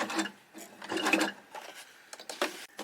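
Sewing machine stitching elastic onto fabric boot protectors, running in short uneven bursts of rapid needle clatter with brief pauses between, close and fairly quiet.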